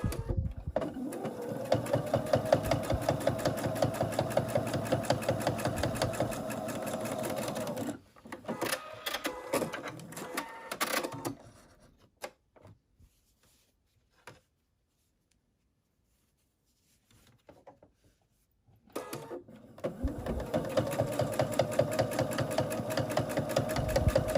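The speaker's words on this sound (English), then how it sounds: "Now we're going to refold this and stitch our other darts." A sewing machine stitches darts in fabric for a microwave bowl cozy, running in long steady bursts of rapid mechanical whirring with a quiet pause in the middle before starting again; no one speaks.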